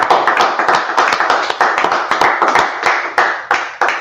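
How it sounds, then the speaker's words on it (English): A group claps hands together, loud and close, with sharp, fairly regular beats forming a steady rhythmic pattern throughout, with no voices over it. "All right, go ahead and clap it up."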